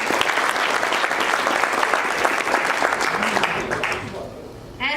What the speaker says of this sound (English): So another round of applause for those nurses.